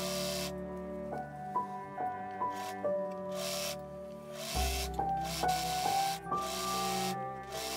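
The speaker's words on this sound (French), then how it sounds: "Je couds." A sewing machine stitches a seam in stretchy jersey fabric for a fitted tank top with straps, its motor whirring steadily and close with a few short pauses and changes in speed.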